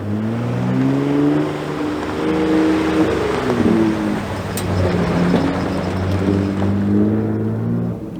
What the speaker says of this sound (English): So starting off with the Raptor first for the high-speed stuff, and this trail, let me tell you, is very technical.